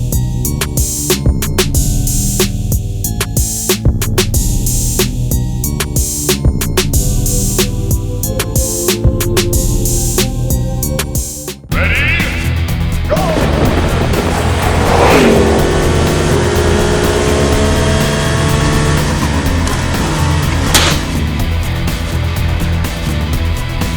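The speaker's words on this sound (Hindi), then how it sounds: "now it is time for MG ZS EV and MG Aster to race" Two MG SUVs, a ZS EV electric and an Aster petrol, race side by side, with a steady loud engine and road roar throughout, a sharp break midway, then accelerating whoosh and passing sweeps up close.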